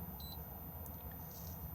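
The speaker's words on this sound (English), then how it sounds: "Key beeps just here." Two short, high electronic beeps from the heater control panel inside a Swift Conqueror 570 motorhome, sounding close and faint over a steady background hiss.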